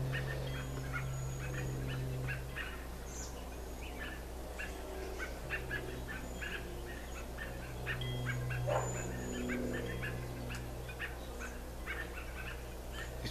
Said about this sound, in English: These birds sound like little dogs barking.